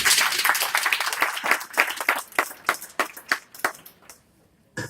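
An audience at a community candidate forum claps in a loud burst that thins out into scattered individual claps and fades to near silence.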